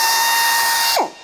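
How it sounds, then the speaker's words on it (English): A fast drill bit bores into the bumper of a 1987 Chevrolet Suburban with a bright, high whine that holds for about a second, then winds down abruptly as the bit stops. "Wow, that was a very fast drill bit."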